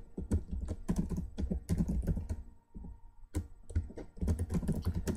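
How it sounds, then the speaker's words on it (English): Close, steady typing on a computer keyboard with irregular bursts of key clacks and a short pause midway, no talking. "I guess I'll just go ahead and type this out"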